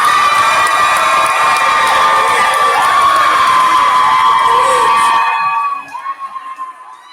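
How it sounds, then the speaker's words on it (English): At a school commitment announcement in Newberry, a gym crowd bursts into loud cheering, whoops and high-pitched shouting, a sustained roar that cuts off abruptly near the end and leaves a fading echo. "what a reaction from the crowd there at Newberry"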